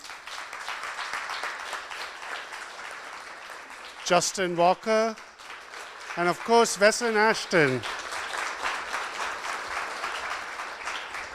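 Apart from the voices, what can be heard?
audience applause for lecture speakers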